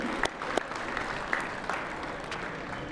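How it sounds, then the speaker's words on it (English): Guests at the opening reception of an electronics expo give sponsors a round of applause, a steady, medium-sized crowd clapping with a few sharp individual claps popping out. "Round of applause for these gracious companies."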